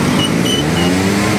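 Road traffic on Payatas Road rumbles steadily, with cars passing close by in a continuous, fairly loud wash of engine and tyre noise and no clear gaps.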